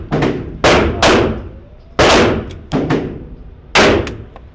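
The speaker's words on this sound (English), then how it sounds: "I'm going to get some kind of rounds down range." Pistol shots ring out during USPSA practical shooting practice on an outdoor range, six loud, sharp reports in irregular pairs and singles. Each crack trails off in a short echo.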